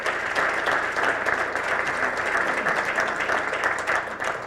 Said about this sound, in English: How about we give these ladies and gentlemen a round of applause for their work that they've done.